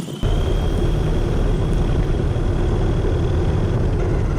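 A PXToys 9204E RC car running on a 2S Lipo battery, its electric motor kicking in abruptly and holding a loud, steady whining roar close by, with no talk.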